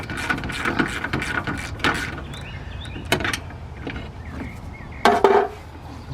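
A hand ratchet works loose the 12mm bolts holding a Toyota car horn during an AC condenser replacement, giving short bursts of clicking pawl sounds with metallic clanks and brief pauses, close and fairly loud.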